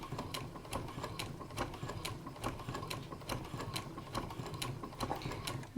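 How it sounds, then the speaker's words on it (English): A domestic sewing machine set to a longer stitch length of 4 stitches quilting fabric, a steady mechanical whirr with evenly spaced clicking ticks, close and continuous without talk. "I'm going to stitch along a little bit. I just want to show you the difference in the stitch lengths."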